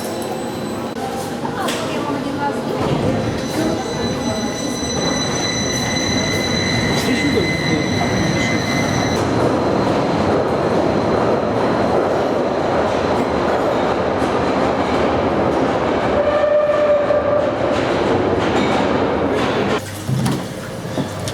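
A narrow-gauge train rumbles steadily nearby, wheels clattering and squealing on the rails as it pulls away, with voices faintly underneath.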